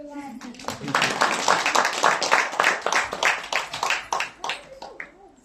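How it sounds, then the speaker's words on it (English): An audience at a children's graduation ceremony claps steadily for several seconds, many hands fairly close and loud, with a voice briefly audible among the applause. "Before that, let them all clap."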